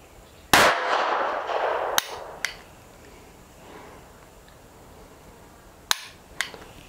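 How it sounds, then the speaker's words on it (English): Federal ammunition fired from a Taurus PT 22 .22 semi-automatic pistol: a loud sharp crack with a ringing tail, followed by a few fainter, smaller clicks and pops spread across the following seconds. "let's go ahead and do 9 rounds of the Federal and see how they do"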